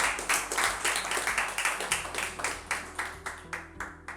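Audience clapping at an open mic poetry event in Kanpur, a steady burst of many hands that thins into slower, sparser claps toward the end, fairly close and without talk.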